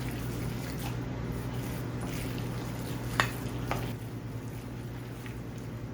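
Shanghai-style wonton filling seasoned with oyster sauce is being mixed by hand in a bowl, giving soft, faint wet stirring sounds with a couple of light clicks over a steady low room hum.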